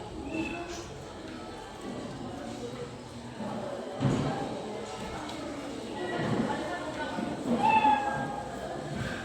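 A cartoon cat meow sound effect plays in a coding lesson, heard briefly a few times over a quiet room tone while a person talks throughout.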